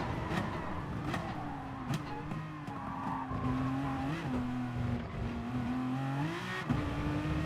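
Race car tyres lock and squeal under braking in the video game GT Sport, with wavering pitched screeches over a constant engine roar.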